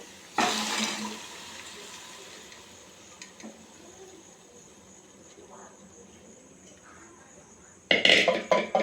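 Kabuli chickpeas drop into hot oil and cooked spices for chana ghugni, setting off a loud burst of sizzling that settles into a low, steady hiss before a second sharp crackle of stirring near the end.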